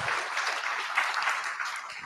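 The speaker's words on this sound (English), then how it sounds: "Okay, everybody give a big round of applause." Steady round of audience applause at a small startup pitch gathering, a dense even wash of clapping that holds for a couple of seconds at moderate distance.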